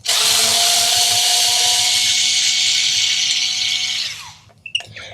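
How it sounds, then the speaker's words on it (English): A power driver whirs steadily as it loosens the bolt-on neck screws of a Schecter guitar, a loud continuous motor whine for about four seconds that spins down, followed by a few faint clicks. "So it's a bolt on. I'm going to just go back here. I'm going to loosen these up."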